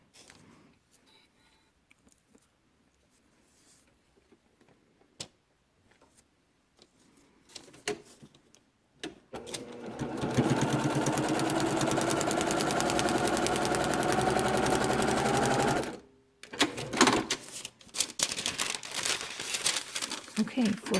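Quiet handling and rustling of fabric give way to a sewing machine running steadily for about six seconds as it stitches a quilt block, close and loud, followed by a short burst of faster stitching.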